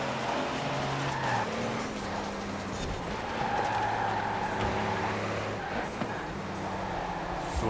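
A truck skids and slides during a race in a video game, tires squealing over a droning engine that rises and falls steadily throughout, with faint talk underneath.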